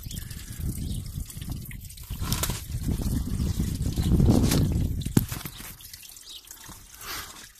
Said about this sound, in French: Pour que ça se vide, on va ouvrir le robinet là.